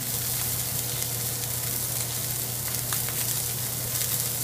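A thick ribeye steak sears in a hot pan, giving a loud, steady sizzle with a low hum beneath it and no talking.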